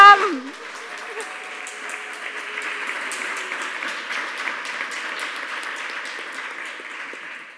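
A live audience at a congress in Leipzig applauds with steady, even clapping that holds at a moderate level throughout, after a brief opening swell of sound.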